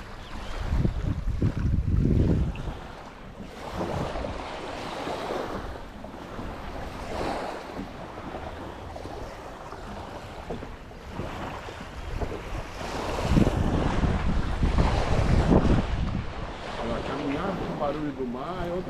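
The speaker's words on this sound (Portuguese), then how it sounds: "O barulho do mar é outra coisa." Sea waves washing onto Itaguaçu beach in Coqueiros, Florianópolis, rolling surges of surf mixed with gusty wind buffeting the microphone, loud and close.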